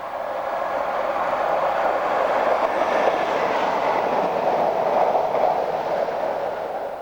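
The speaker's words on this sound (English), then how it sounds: "This is the Serco track test train." A Serco track test train runs past, a steady close rumble of wheels on rail with faint clatter throughout and no voices.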